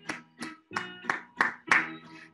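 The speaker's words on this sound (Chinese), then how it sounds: "我们来拍手，跟着拍子。" Six even hand claps keep time with a beat, the later claps a little louder, with a faint voice under them.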